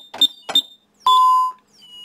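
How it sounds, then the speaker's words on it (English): Ademco Vista security alarm keypad sounding after a master code change: two short key-press chirps, then one clear, loud sustained beep of about half a second, alone with no talk. "You hear that one beep, okay?"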